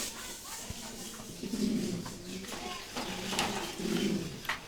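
Pigeons, including a Dubai pigeon pair, coo softly in a loft or pen, with a few low murmuring calls close by amid faint clatter and shuffling.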